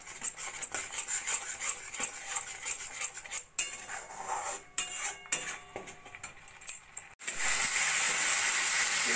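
Spices are fried in oil in a pan while cooking Bengali pabda tel jhal, with utensil scraping and clinking against the pan, then a loud sustained sizzle and hiss rising near the end.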